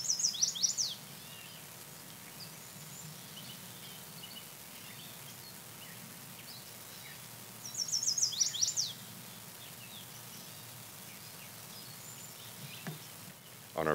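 Chestnut-sided warbler song heard at the edge of a beaver wetland: two short, bright whistled phrases several seconds apart, fairly faint over a quiet outdoor background.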